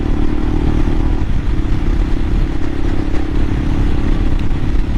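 A 2022 Royal Enfield Himalayan motorcycle cruises along with a steady, continuous engine drone under heavy wind rush, loud and close throughout, with no talking.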